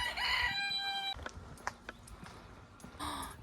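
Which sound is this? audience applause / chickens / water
chickens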